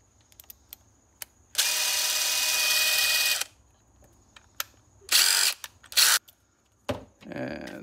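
Power tool from a DeWALT 7-tool kit running close by, with a loud sustained whir of about two seconds followed by shorter bursts and scattered mechanical clicks and handling knocks, and no speech.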